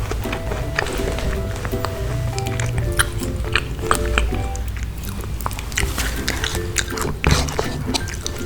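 Rose apple from a rujak and asinan stall in Palembang is bitten and chewed close up, with repeated moist, crunchy bites and squishy chewing over a busy background.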